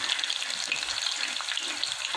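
Shallots and mustard seeds frying in a pan, a steady bright sizzle that stays close and even throughout with no talk.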